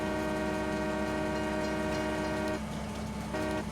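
A train engine idles in a farming game, a steady droning hum with a layered tonal whine that drops away briefly near the end before returning.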